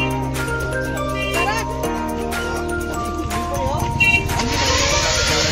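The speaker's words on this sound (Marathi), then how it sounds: "इथून आपण या टमटम रिक्षा मध्ये चाललेलो आहोत" Riding inside a tumtum auto rickshaw on the way to Kanakeshwar, with a continuous engine drone and road rumble that shifts in pitch, and a burst of wind noise toward the end.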